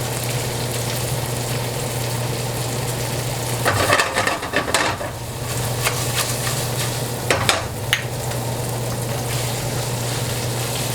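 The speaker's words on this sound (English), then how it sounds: "Add a pinch of thyme and the minced garlic and stir or toss to combine." Thyme and minced garlic are stirred in a frying pan over caramelized onions, a steady sizzle with a low hum, broken by two short bursts of scraping and clattering as the pan contents are tossed.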